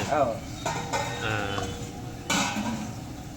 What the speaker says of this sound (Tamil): ஆனால் அடி பிடிக்காது, கிண்டிகிட்டே இருக்கணும்.